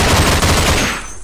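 Rapid, continuous submachine-gun fire in the co-op shooter Sven Co-op, loud and close, a dense burst of shots lasting about a second before tailing off.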